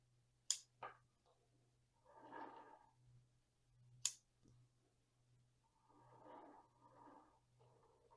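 Two sharp, crisp snips of pruning shears cutting a dwarf jade bonsai branch, each followed by small clicks, with soft rustling and handling noises between them over a low steady hum.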